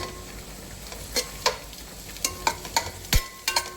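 Vermicelli frying in a pan while being stirred, a soft sizzle broken by a series of sharp scraping strokes of the spoon against the pan, close and clear with no talking.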